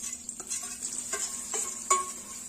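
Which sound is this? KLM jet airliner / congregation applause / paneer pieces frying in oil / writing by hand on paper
paneer pieces frying in oil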